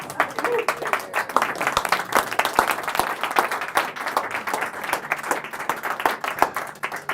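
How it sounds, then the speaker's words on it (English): A studio audience at a public-access comedy magic show gives a long round of applause. Sharp individual claps run irregularly through the whole stretch at a fairly even level. "give them a big round of applause"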